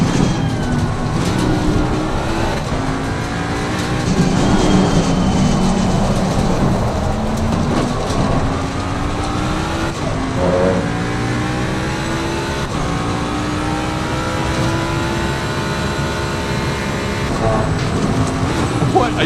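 Ford Mustang race car in Assetto Corsa Competizione, its engine note sweeping up and down through the gears in steady, loud harmonic rises and drops, with a voice talking over it.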